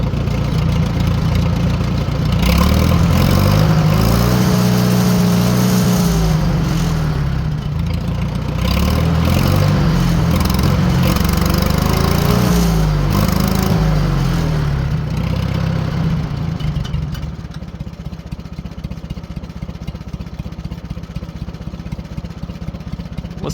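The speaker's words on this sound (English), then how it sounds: "Listen to it sit there and idle." A 1940 Farmall H tractor with an M&W 9-speed, previously running badly from plug and timing trouble, revs up in several loud surges and then settles into a steady, low, close idle with no talking.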